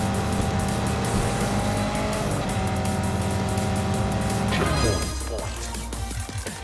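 Tires squeal as a toy-style race car drifts through a corner in Hot Wheels Unleashed, a long screech over a steady engine drone that shifts pitch and fades near the end.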